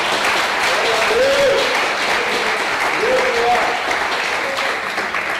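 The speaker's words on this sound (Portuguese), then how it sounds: "Dê uma salva de palmas ao Senhor." Church congregation applauding as a dense, steady wash of clapping throughout, with a voice or two calling out over the crowd.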